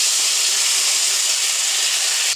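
Cinnamon, cloves, cardamom, bay leaf and chopped ginger hit hot oil in a pan, giving a loud continuous hissing sizzle that holds steady and then cuts off abruptly at the end.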